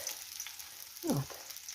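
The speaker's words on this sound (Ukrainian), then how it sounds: "Бачите, гарно знизу вже просмажується." Cherry pancakes fry in a hot pan with a steady close sizzle, and a brief scraping stir sound cuts in midway.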